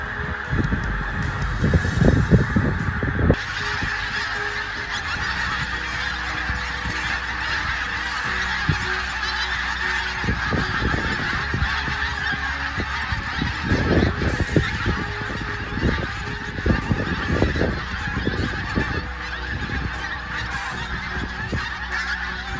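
Wild geese honk continuously during winter migration, a dense overlapping chorus of many birds calling at once, loud and steady throughout with no voices.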